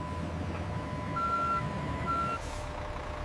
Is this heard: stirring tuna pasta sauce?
no